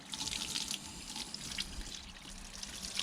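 Water from a tap rinsing degreaser off a bike chain, a steady, gentle splashing flow close by and fairly quiet, with slight fluctuations throughout.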